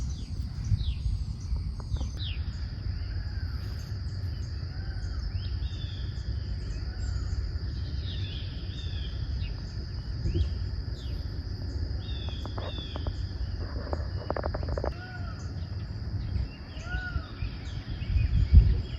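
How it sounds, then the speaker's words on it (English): Faint birds chirping and calling at a distance at sunrise over a steady insect hum and soft outdoor background. "maybe you could hear the birds and stuff"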